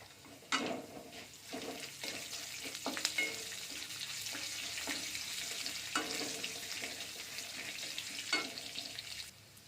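Chopped onion fries in a pan on medium flame for vegetable suji upma, a soft steady sizzle with intermittent scraping and stirring knocks, fairly quiet and close.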